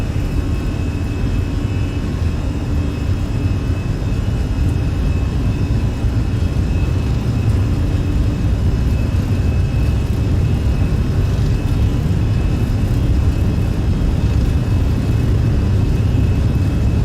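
Steady, loud engine roar and rumble of a Fenix Airbus A320 on its takeoff roll in Microsoft Flight Simulator, a constant whine-laced drone that holds unbroken throughout.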